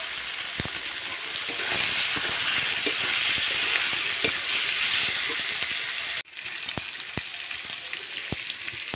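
Boiled potatoes frying in a spiced masala, a steady close sizzle with frequent clicks and taps of a stirring spoon, the hiss dropping suddenly partway through before stirring continues more quietly.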